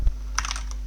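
A few quick keystrokes on a computer keyboard, light clicks in a short burst after a soft thump.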